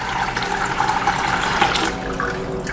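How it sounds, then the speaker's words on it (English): Salt water poured from a cup into a saltwater aquarium, a steady splashing gurgle that runs for a few seconds and tapers off, close by with no speech. "Gonna be adding some salt water."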